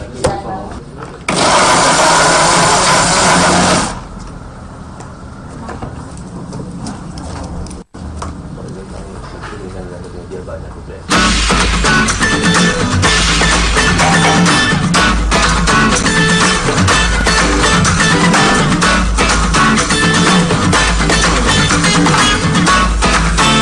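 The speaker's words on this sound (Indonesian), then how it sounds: "di blender dengan tambahan garam dan dicampur dengan udangnya" An electric blender grinds shrimp with garlic and salt into a paste, a loud continuous whirring roar that starts, briefly slows to a lower churn, then runs hard and steady.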